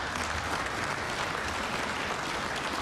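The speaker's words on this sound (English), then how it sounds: "sixth applause line of the night" A political speech audience breaks into steady, dense applause, a continuous wash of many hands clapping at once that holds at an even level throughout, heard from a distance with no voices on top.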